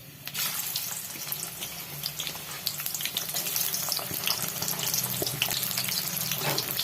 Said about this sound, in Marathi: मी कांदा हा तळून घेणार आहे.